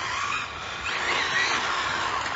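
A Traxxas Corvette Stingray 4TEC 3.0 RC car on a 3S battery with a Velineon VXL system accelerates hard with a steady high electric whine and tire hiss, with no talking.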